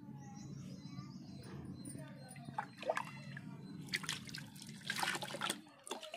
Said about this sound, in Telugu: ఇప్పుడు దీంట్లో వాటర్ పోసేసుకుంటే చూడండి నొరగ ఎలా ఫామ్ అయిద్దో